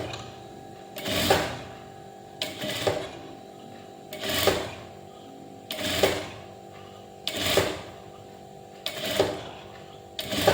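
Sewing machine stitching small even pleats into a puff sleeve, running in short bursts of roughly a second each, spaced about every one and a half seconds, loud and close with quiet pauses in between.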